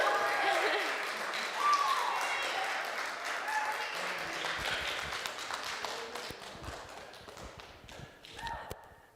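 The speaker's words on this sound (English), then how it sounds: "How about another big round of applause for Ruby?" Audience applause at a live Thursday night show, a steady wash of clapping mixed with crowd voices and some talk, fading slowly over several seconds.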